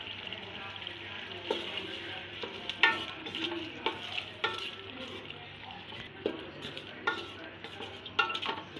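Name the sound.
green chili paste frying and being stirred in the pot for chana pulao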